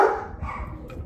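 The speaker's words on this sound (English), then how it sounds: "You might hear my dogs right now." Household dogs barking indoors in a brief, close burst of yapping and bow-wows, loud and alone with no talk.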